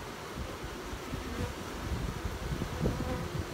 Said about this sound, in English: These bees are motivated.